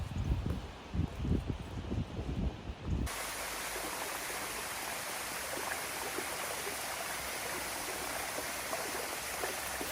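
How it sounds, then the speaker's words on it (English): Steady broadband rush of flowing water from a waterfall on the Amalfi Coast in January, continuous and even, heard from a distance; a louder rumbling patch opens the first few seconds. "I can actually hear the waterfall already"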